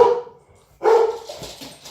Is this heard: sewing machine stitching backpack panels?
no